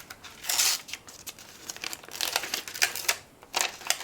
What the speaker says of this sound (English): Take your Aleene's tacky double stick sheet and just remove that backing paper